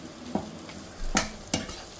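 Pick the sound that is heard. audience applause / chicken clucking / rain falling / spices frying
spices frying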